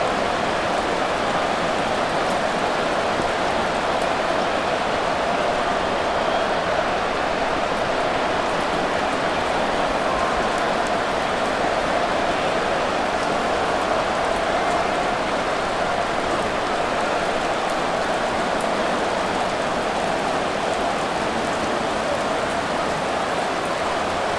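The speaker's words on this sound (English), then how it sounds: "The rain set to continue as we are underway in the second half." Steady, heavy rain pours throughout a Madden NFL 24 football game between the New Orleans Saints and Pittsburgh Steelers, a dense continuous hiss with no talk over it.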